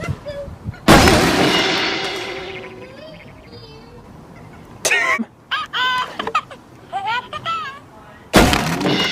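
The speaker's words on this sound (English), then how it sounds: "Bombs away, Pablo." Bombs explode in the Bad Piggies video game: three loud, sudden blasts spread across the clip. Chattering cartoon voices fill the gaps between them.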